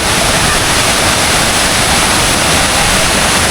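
Waterfall at Bega Falls roaring loud and steady, a dense unbroken wash of falling water close by with no pauses.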